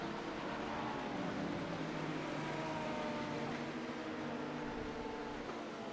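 A Lamborghini race car running in the rain in iRacing at Sebring gives a steady, fairly quiet engine drone with faint tonal harmonics and a wash of noise throughout, no talk.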